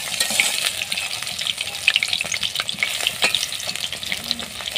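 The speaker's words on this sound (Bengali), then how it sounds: "আমি উল্টিয়ে দিচ্ছি, আর 1 পিঠ ভেজে নিচ্ছি।" Helencha leaf fritters fry in a pan with a dense, even sizzle and crackle of hot oil, close and continuous with no voices.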